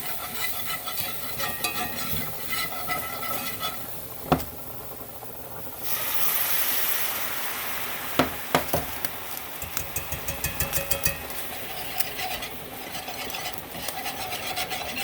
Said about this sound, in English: Now you have to whisk like your life depended on it.